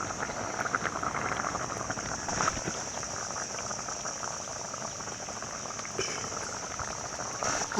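A clay pot of fish curry bubbling at a steady simmer, soft continuous boiling with faint pops and occasional clinks, close by and fairly quiet.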